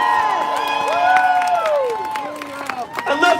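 An audience applauds and cheers in a loud, dense swell, with shouts and whistles rising over continuous clapping.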